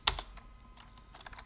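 Keystrokes on a computer keyboard while editing a script file on an ArcoLinux desktop, a sharp loud tap at the start followed by a quicker run of lighter, close clicks, with no talking.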